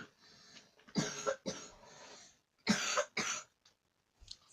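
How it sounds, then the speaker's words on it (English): A person coughing in two close, harsh bursts of several coughs each, followed by a faint throat clear, in a quiet room. "Sorry about the coughing"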